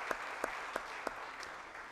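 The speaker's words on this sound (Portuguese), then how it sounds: "Já peço uma salva de palmas aos nossos homenageados, por favor." Applause for honorees at a solemn legislative session, a dense hall of clapping with a few sharper claps standing out near the microphone.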